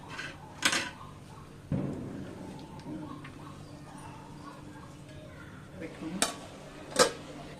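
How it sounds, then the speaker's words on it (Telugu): A metal lid is set on a pot of small-fish curry, with a few sharp clanks and scrapes of cookware spaced apart over a low kitchen background. "మూత పెట్టేసుకొని ఉడికించుకుందాం"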